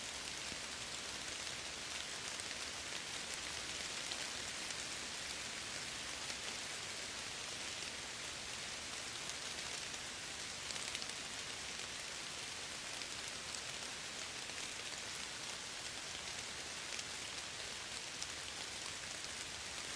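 Steady, dense rain falls evenly without pause, a soft close hiss of drops on surfaces that holds constant loudness throughout with no voices or other sounds.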